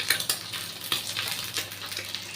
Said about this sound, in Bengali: একটা করে ডিমের পোচ বানিয়ে নিচ্ছি একটুখানি অয়েল দিয়েছি দিয়ে পোচটা বানিয়ে রাখছি